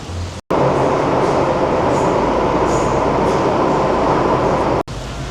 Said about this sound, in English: The metro here is widely considered to be one of the best in the world, and it's super easy to use.